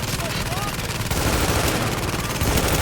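Rapid automatic gunfire in the shooter game The Division, dense continuous bursts that grow heavier partway through, loud and close with a voice faintly underneath.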